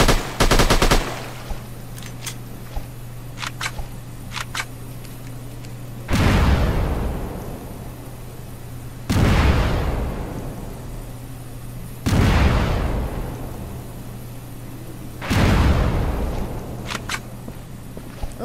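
Gunfire and explosions in the PC video game Agent Roswell: several heavy booming blasts arrive every few seconds, each with a long decaying rumble, set between scattered sharper shots.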